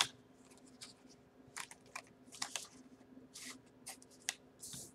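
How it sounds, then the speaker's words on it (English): Tarot cards are shuffled by hand in quick, soft riffling bursts with brief gaps between them, close and quiet against a low background hum. "Let me redo that shuffle."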